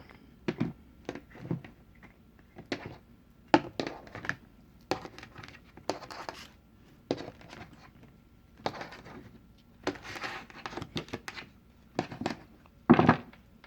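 Tarot cards being cut and shuffled by hand: a quiet, close sequence of soft card slaps, flicks and papery rustles in irregular bursts against near silence.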